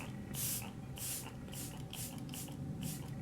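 Repeated spritzes from a Cover FX Crystal Infused Elixir makeup setting mist, a 2-ounce bottle giving a fine mist: about six short bright hissing bursts in a steady rhythm, close and clear over faint room noise.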